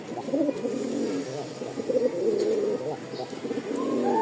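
Indian Lotan pigeons, a pair for sale, coo in low, continuous throaty murmurs close by, with several birds overlapping in a steady burbling chorus.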